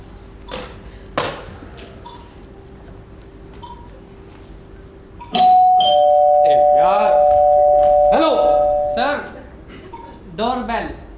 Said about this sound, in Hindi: Sir doorbell.